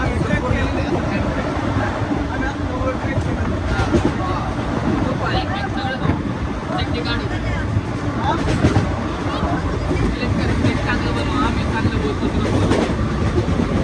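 A Pune-to-Varanasi passenger train rumbles through mountain country with a continuous rattling roar, voices faintly audible beneath the constant mechanical noise.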